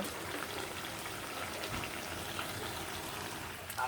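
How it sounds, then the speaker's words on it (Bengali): Water is poured into a frying Bengali vegetable curry of brinjal, tomato and flat beans, giving a steady, soft rushing hiss and gush that carries evenly throughout without voices. "এই যে আমার তরকারি কষানো হয়ে গেছে, আমি এখন তরকারি ঝোল দিয়ে দেব।"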